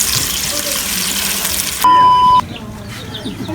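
Chopped onions go into hot cooking oil in a village-style kitchen, giving a steady hissing sizzle, with a short electronic beep partway through and voices talking over it.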